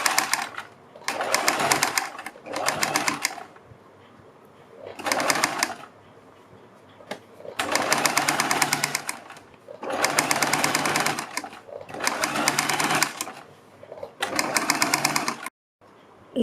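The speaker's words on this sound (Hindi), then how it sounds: "अब हम अपनी पाइपिंग के बिल्कुल बराबर में सिलाई लगाएंगे।" A sewing machine runs in repeated bursts of stitching along kurti neck piping, each run lasting a second or two with quiet pauses between, and pigeons coo faintly in the background.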